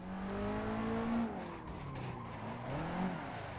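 A modded Nissan 180SX S13 with a turbo SR20 four-cylinder drifts in Assetto Corsa, engine note rising and falling between shifts as tires squeal, close and alone without talk.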